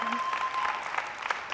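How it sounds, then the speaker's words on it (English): Applause from an audience at a talk on building inclusion, a brief burst of clapping with some crowd murmur, fairly quiet and distant throughout. "Can I get applause for that?"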